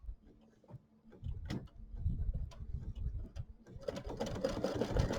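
A sewing machine runs a second satin stitch using monofilament thread, giving rapid rhythmic ticking stitches that start sparse, then settle into a steady, quiet mechanical chatter nearby.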